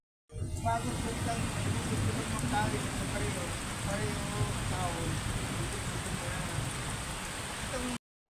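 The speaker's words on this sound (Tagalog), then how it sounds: "Nang bumuhos ang ulan dito." A dense, steady hiss of heavy rain pouring down, loud and continuous, with faint voices mixed in beneath it, outdoors by an old irrigation pipe.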